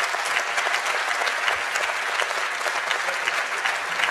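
Dense, steady applause fills a conference hall as teams come up onto the stage at a closing plenary session, a continuous crowd clapping with no talk over it.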